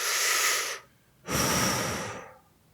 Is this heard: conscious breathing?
yes